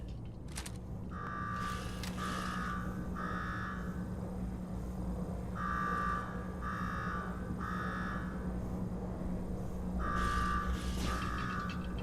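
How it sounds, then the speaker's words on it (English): Repeating electronic alarm in Fallout 4, bursts of three buzzing beeps that recur in groups over a low steady hum, moderately loud throughout. "Now go shut off that damn alarm"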